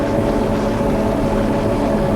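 A John Deere 4440 tractor labours under heavy load pulling a do-all with scratchers on the front, its engine a loud, steady low drone close by.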